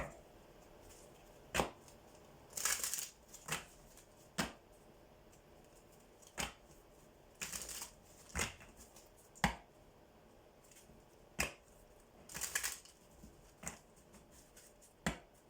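A tarot card deck is shuffled and handled, giving quiet, irregular crisp snaps and short riffling bursts spaced a second or two apart, alone with no talking.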